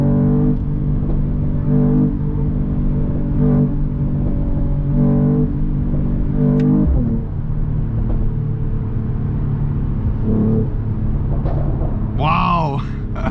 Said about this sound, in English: Slow down and then downshift.